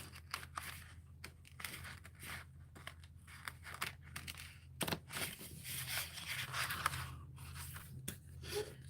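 Scissors cut paper for a handmade mini album with quiet, close snips and crinkles. Faint rustling and handling noises come between the cuts, all at low level.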